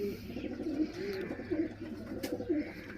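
Racing pigeon cooing close by in repeated soft throaty phrases, several low burbling coos over a faint background hiss.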